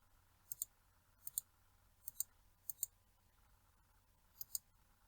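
Five crisp computer mouse double-clicks, each a pair of sharp ticks, spaced about a second apart against a faint steady hum in a quiet room.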